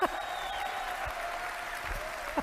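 A convention audience applauds a nervous presenter on stage, a steady wash of clapping at moderate distance with a faint whistle-like tone and brief murmurs.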